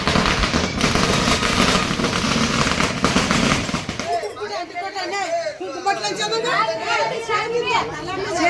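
Firecrackers go off at a village fair held once every five years: a dense, loud crackling barrage fills the first four seconds, then gives way to crowd chatter and voices.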